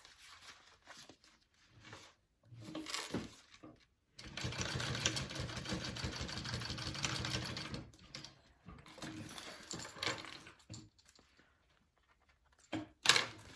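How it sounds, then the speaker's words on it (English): A sewing machine top stitches a large fabric circle in bursts of steady mechanical whirring, the longest run in the middle, with short pauses and handling noises between. "I'm going to top stitch this"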